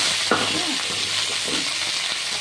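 Steady hissing sizzle of potatoes frying in hot oil for a potato curry, with a few faint clinks and stirring scrapes, close and fairly quiet.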